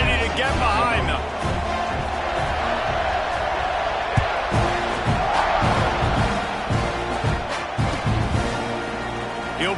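A large stadium crowd at a football game cheers and roars steadily before kickoff, under a play-by-play announcer talking throughout.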